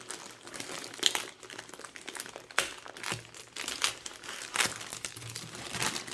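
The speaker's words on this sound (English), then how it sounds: "Looks like we're gonna have to open a few bags, at least a couple." Taped plastic bags are crinkled and pulled open during an unboxing, with close, quiet bursts of crumpling and tearing tape in an irregular rhythm.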